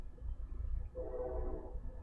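A faint train horn sounds in the video game Your Turn To Die, a soft sustained tonal blast that rises after a second of low rumbling background and holds to the end.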